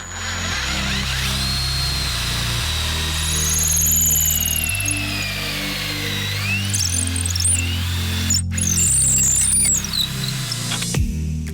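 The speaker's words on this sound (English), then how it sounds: "I can go ahead and drill that and drop a bolt through" A power drill bores a quarter-inch hole through the wooden frame of a homemade go-kart, its motor whining loudly and steadily with pitch shifts as the bit works through the wood.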